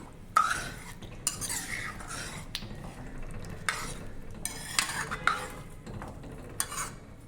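A spoon scrapes and swirls around a pot of Chettinad pumpkin kara kuzhambu (tamarind curry) in several separate bursts with short pauses between, over a faint background hum; no one speaks.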